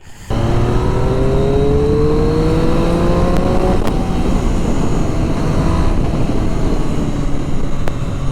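Triumph Street Triple RS motorcycle with its stock exhaust revs hard and close, a loud, steady engine roar climbing in pitch through several seconds with no talk.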